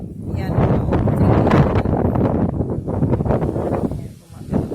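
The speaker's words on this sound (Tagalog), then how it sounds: "ang lakas ng hangin since last night" Strong wind blows steadily through oak trees near a patio in Louisiana, a loud, continuous rushing roar with gusty swells and microphone buffeting, briefly easing near the end.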